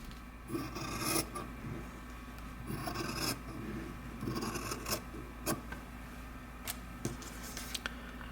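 Scissors cutting fabric for a keychain craft, a series of rasping snips and rubbing strokes in irregular bursts, close and fairly quiet, with no talking.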